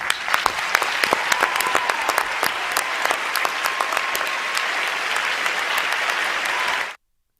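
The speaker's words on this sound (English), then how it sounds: "the other candidates on stage, clapping for him" A presidential debate audience applauds a candidate in a steady, dense wash of clapping with a few sharper claps up close, cutting off abruptly after about seven seconds.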